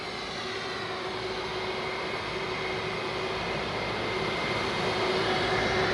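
Delta airliner's jet engines roaring on takeoff at a frosty Frankfurt Airport, a broad steady rush with a faint whine that swells slightly louder toward the end.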